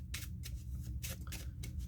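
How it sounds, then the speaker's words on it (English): Playing cards riffled and shuffled by hand, a few quick bursts of crisp fluttering clicks close up, repeating with short pauses over a low steady background hum. "Have them shuffle the cards"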